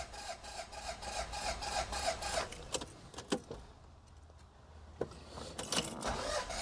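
A car engine cranks with power from an AUTOONE JS02 portable jump starter, giving a close, rough, rhythmic whirring and grinding that pauses midway and then resumes with sharp clicks; no talking.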